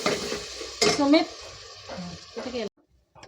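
Masala for a Kolhapur-style bucket biryani roasts in a pan with a close, bright sizzle and stirring scrapes. A voice briefly sounds over it before the sound cuts off.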